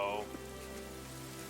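Steady rain hisses evenly in the video game Fire Emblem: Three Houses, a continuous wash of rainfall at low level after a brief higher tone fades out.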